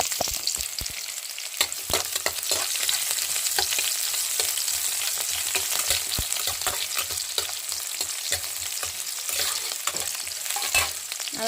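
Onions, green chillies and beetroot fry in a pan with a steady, close sizzle and scattered stirring scrapes, with no talk.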